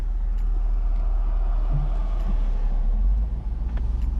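A Mercedes R129 roadster, fitted with a newly replaced fuel pump and worn tires, drives along with a steady, loud low engine and road rumble throughout and no talk.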